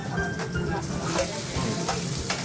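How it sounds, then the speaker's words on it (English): Prawns sizzling steadily in a hot pan in an Italian restaurant kitchen, a dense continuous frying hiss with faint stirring clatter, fairly close and without talk. "Let the prawn simmer a little bit."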